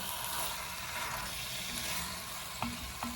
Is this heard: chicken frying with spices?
yes